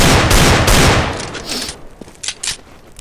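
Rapid bursts of gunfire from a weapon in the shooter game CS:GO, loud dense shots at first, then a few sharper spaced single shots toward the end.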